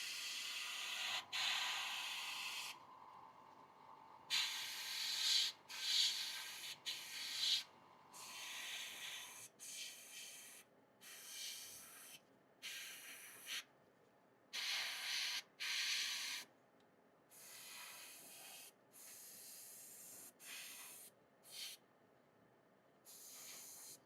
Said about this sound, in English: I'm just gonna spray this darker purple